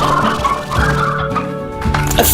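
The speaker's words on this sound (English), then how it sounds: "We're gonna get some chickens." Chickens in the Slime Rancher video game, loud close clucking and gobbling calls in quick overlapping bursts, with no voices present.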